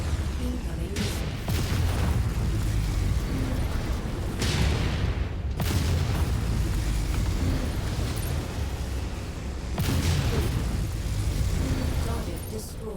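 Missile explosions in the Annihilator ANH-1E combat video game: several heavy booming blasts burst at irregular intervals over a dense, rumbling battle din, loud and close, with a voice speaking intermittently.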